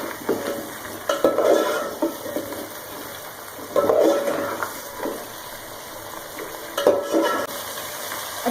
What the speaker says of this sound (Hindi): साबुत गरम मसालों के साथ और ब्राउन प्याज के साथ चिकन को वाइट करेंगे